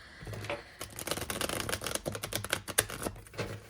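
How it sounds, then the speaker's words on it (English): Tarot de Marseille cards, a thick, durable deck, being shuffled by hand: a quiet run of rapid crisp riffling flutters and soft paper slaps up close, with no talking. "I actually haven't shuffled these cards yet, so we'll do it together today."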